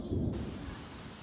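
Thunder rumbles close and loud through steady rain in a Sims 4 storm, one low roll fading within about a second, with no talk over it.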